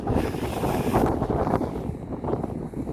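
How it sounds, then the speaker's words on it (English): Steady wind buffeting the microphone at a seaside holiday park near Filey on a chilly day, a loud continuous roar with gusty swells and no voices. "It's windy, it's a nice day, but it's just chilly and windy"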